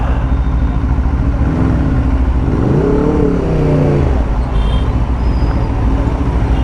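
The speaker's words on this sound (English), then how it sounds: "Peak hour traffic." Peak hour city traffic in Bengaluru, a loud, continuous roadway rumble with engines nearby and a vehicle revving up and easing off partway through, with no talk over it.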